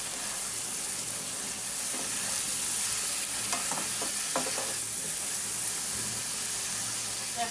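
Ginger, garlic and green chili sizzle steadily in a hot pan, a constant close hiss with a few scraping stirs partway through and no talking.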